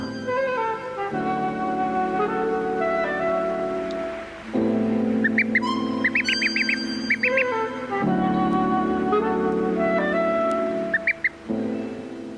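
Baby ducklings, just a few hours old, peep in high, repeated chirps over a steady harmonic background drone, with bursts of shrill calls clustering in the middle and again near the end.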